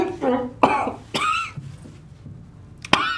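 A voice mimics coughing and throat clearing, a few sharp hacking bursts separated by pauses, close and fairly loud.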